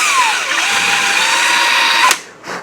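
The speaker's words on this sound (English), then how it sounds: "now I'm drilling into it, it doesn't look like pine" A power drill bores into soft pressboard on a shelf, a steady high whine held for about two seconds before cutting off abruptly, followed by a brief fainter burst.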